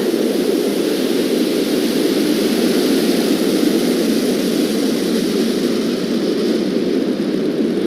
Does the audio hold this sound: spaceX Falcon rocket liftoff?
yes